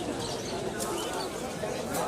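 Pigeons coo softly in the background at a busy pigeon market, where red-geared Naptha pigeons and hens are on sale, beneath constant crowd noise and nearby talking.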